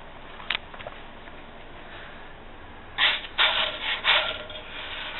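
A big metal spatula scrapes freshly baked bread off a hot plate, giving a few close, rough scraping strokes in a burst near the end after a quiet stretch with one brief clink.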